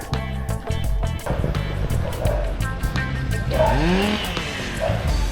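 Road traffic passes a busy hilltop roundabout in St George's, Grenada: nearby car engines rev and pass, with tyre noise and horn-like tones, a dog barking briefly and voices in the background.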